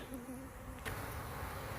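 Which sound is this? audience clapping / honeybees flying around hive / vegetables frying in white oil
honeybees flying around hive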